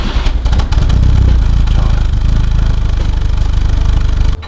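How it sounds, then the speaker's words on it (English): A BMW 2002 engine with a Weber 32/36 carburetor cranks briefly, catches and settles into a loud, steady, throbbing idle close to the listener, cutting off abruptly at the end. "we're going to start up the car, warm it up a little bit for the compression check"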